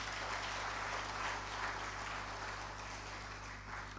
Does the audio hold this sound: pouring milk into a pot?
no